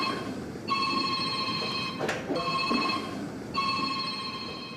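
A telephone rings on a call in a radio play, three long electronic bursts separated by short gaps, loud and close with no one talking over them.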